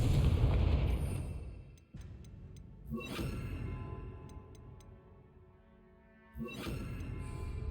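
Confringo fire spell in Hogwarts Legacy, a few separate booming explosions spaced seconds apart, each with a rumbling tail and faint ticking chimes between them.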